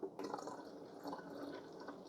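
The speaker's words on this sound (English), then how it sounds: "Filling it up at the sink" Water running from a sink tap into the tank of a Bissell Spot Clean ProHeat Pet portable carpet cleaner, a quiet steady splashing stream with a faint drip at the start.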